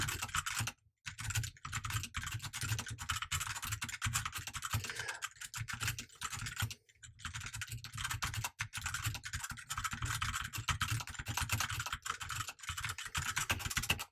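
Close, continuous typing on a computer keyboard: a busy stream of key clicks and clatter with only a couple of brief pauses, with no talking.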